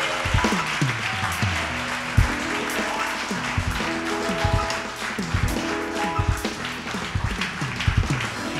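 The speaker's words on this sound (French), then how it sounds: "Donne s'il te plaît une offrande d'acclamation à Jésus." A church congregation applauds in a continuous burst of clapping, fairly loud and sustained, with scattered sharper claps and background music tones.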